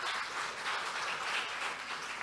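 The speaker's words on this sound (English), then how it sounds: "let us give again a round of applause to all the presenters" Steady applause from a conference audience for the presenters at the close of a session, a dense, even wash of clapping heard from a distance, fairly quiet and unbroken by talk.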